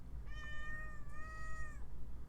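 A house cat gives two clear, drawn-out meows close by, the second rising and falling, against a low steady background hum with no talking.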